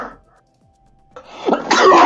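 One sharp, loud sneeze bursts out near the end after a quiet stretch, a sudden noisy blast from a single person close to the microphone.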